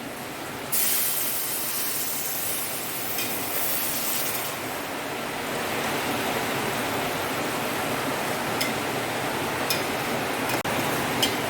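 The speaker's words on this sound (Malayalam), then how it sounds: "ഇഞ്ചിയുടെ വെള്ളം അത് നമ്മൾ ഒഴിച്ചു കൊടുക്കാം നമുക്കതിലേക്ക്" Ginger juice poured into a hot pan of Kerala-style ginger curry, giving a steady broadband hiss and rush that starts abruptly and continues evenly throughout, with no talking.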